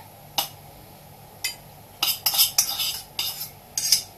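Metal tongs clinking against a plate while grilled chicken is set down and garlic salad dressing is drizzled over it; a series of sharp, close clicks and scrapes, irregularly spaced, with no talking.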